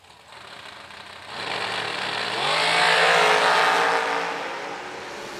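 Drag racing cars launch from the starting line at a TB Promotions $100K event, a roar that swells sharply and climbs as the cars pull away, loud and sustained before easing slightly.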